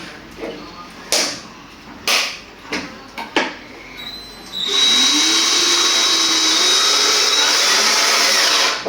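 A few sharp knocks and clatters, then a power drill driving screws whirs continuously at high speed for several seconds, close and loud, while fixing plastic bottles into a planter.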